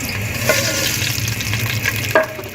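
Sevaiyan vermicelli roasting in a pan for sheer khurma, giving a steady soft frying hiss with a couple of brief sharper scrapes from stirring, close and continuous with no talking.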